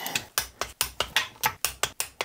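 A ratcheting torque wrench tightens a bolt on the bottom end of a Ducati 900 SS engine, giving about ten evenly spaced, crisp clicking strokes close up with no talk.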